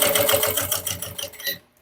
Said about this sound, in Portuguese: Só costurar, ponto número 5.